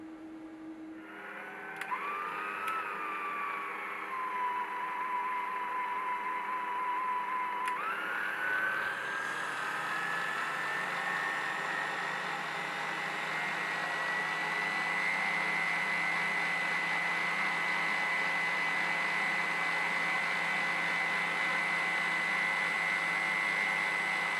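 A stand mixer with a paddle attachment runs continuously while mixing shortbread dough, a steady whirring motor hum that shifts up in pitch partway through and then holds level and fairly loud to the end.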